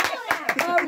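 Brief scattered hand clapping at a family 60th birthday celebration, a few sharp claps mixed with loud overlapping voices nearby.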